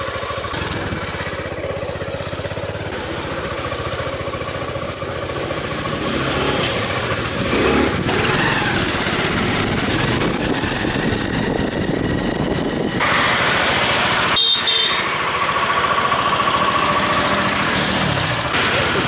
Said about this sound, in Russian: Здесь очень насыщенный трафик, потому что все едут на море.